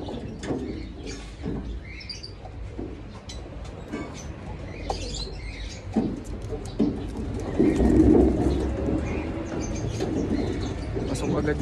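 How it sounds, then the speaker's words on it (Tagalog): A racing pigeon arrives at the loft after a training race from Irosin, Sorsogon: soft cooing and a flurry of wing flaps, fairly close, with scattered chirps and someone talking quietly in the background. "May nakita na akong pumasok na ibon."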